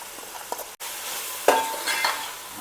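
Coriander, ginger and garlic paste hitting hot oil in a pan, giving a steady sizzle that jumps louder near the middle as the paste goes in, with a brief clink and stir; no talk.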